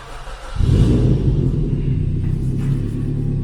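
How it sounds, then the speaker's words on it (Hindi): A 2016 Suzuki Swift fitted with an aftermarket exhaust starts up after a brief quiet moment, its engine catching and settling into a loud, steady low idle that continues close by without talk. "साथ ही साथ मैं इस गाड़ी को स्टार्ट भी कर लेता हूँ।"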